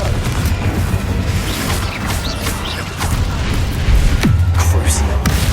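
Confringo spell explosions in Hogwarts Legacy burst as heavy booms and crashes within a loud, dense wash of combat noise.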